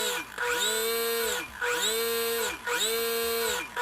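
A Parkzone T-28 RC plane's electric motor runs up on throttle three times, each burst a loud, rising whine with a steady harmonic tone before easing back down. The bursts come in a regular rhythm, close to the listener.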